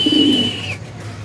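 A single pigeon coos briefly close by at a loft, a soft low warble lasting about half a second, over a faint thin whistle and quiet background.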